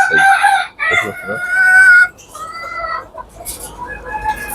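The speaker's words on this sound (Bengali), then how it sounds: "দেখুন আমার এই পাহাড়ি মুরগিটা দেখেন" A hill chicken on a farm nearby gives loud, drawn-out calls and clucks in a few bursts, then quieter clucking continues.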